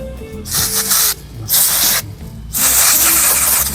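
Three loud bursts of hissing water spray from a nozzle cleaning out a paint roller frame, each lasting about a second with short gaps, close and harsh.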